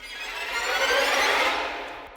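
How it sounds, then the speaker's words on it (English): Dense string clusters in the outro of an epic video game battle theme swell up and fade out as a sustained, shimmering orchestral wash, with no other sounds over it. "It has some string clusters,"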